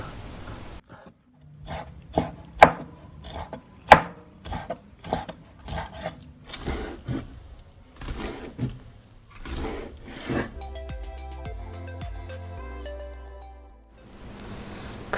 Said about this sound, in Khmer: Cut the shrimps into small pieces.